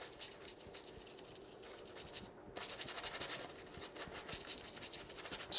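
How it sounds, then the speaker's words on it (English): A paintbrush scrubs oil paint in small circles on canvas while filling in a dark corner of a landscape, giving a soft, steady rasping rub that is close and quiet, growing a little louder partway through, with no talking. "Scrubbing it, doing circles."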